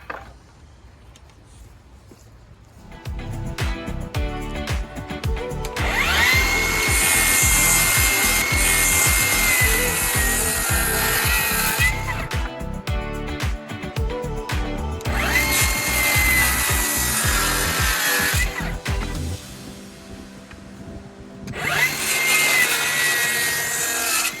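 Wooden deck joists are cut off with a power saw, a loud, close whine and rasp through the wood in two long passes separated by a brief drop, with quieter handling noise at the start.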